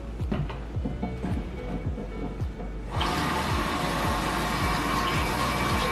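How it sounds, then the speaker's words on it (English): Lukewarm water splashes and swishes steadily as two pounds of sorrel are washed by hand in a kitchen, a continuous close watery rush with no talking. "I'm just washing it in some lukewarm water"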